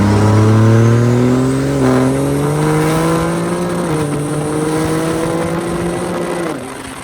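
Loud, close revving of a 4th gen Cummins diesel truck engine with a 2G turbo swap, its steady rising drone climbing in pitch through the clip with brief dips between pulls.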